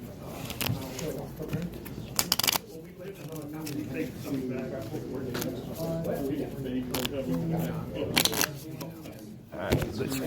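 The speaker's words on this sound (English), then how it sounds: "shuffling these back into the deck" A deck of game cards is shuffled in repeated bursts of riffling and sharp snaps amid soft handling noise, with a person talking quietly throughout.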